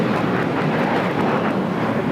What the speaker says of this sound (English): That was a flight heading to Fort Lauderdale, Florida, and then A321.